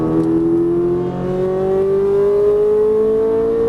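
A Ferrari 458 Italia accelerating hard out of a turn on a track, its engine note loud and steady as it climbs smoothly in pitch throughout, close and continuous with no voices.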